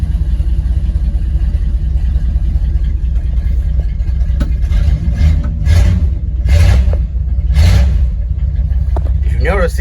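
A 1985 Dodge D150 pickup's engine runs with a cut, louder exhaust, rumbling steadily up close and swelling in a few revving bursts midway, while voices talk over it.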